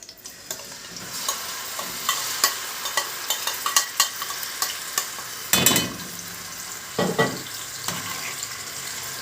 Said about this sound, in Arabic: هنفضل نقلب فيها كويس لحد ما لونها بس يتغير